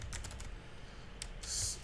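Faint clicks of typing on a computer keyboard, a few quick keystrokes over a low background hum.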